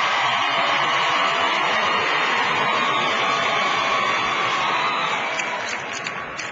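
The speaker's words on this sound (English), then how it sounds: "There's a feisty crowd here." Feisty crowd at a political rally with the President speaking in New Orleans, a dense roar of cheering and whooping that fills the space steadily throughout, loud and sustained with no distinct voices standing out.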